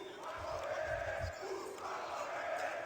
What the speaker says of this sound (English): that little Danish corner is being quite loud inside of the arena right now, trying to cheer them back on